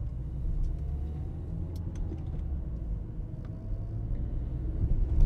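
A car idles and then pulls away slowly in first gear during a driving-test route in Tauragė, with a steady low engine rumble and road noise building gently toward the end, heard from inside the cabin.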